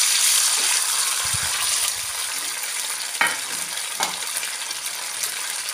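Bay leaf and ground ginger paste hitting hot oil in a pan, a steady hiss of frying with a few soft stirring clatters and light knocks, close and continuous.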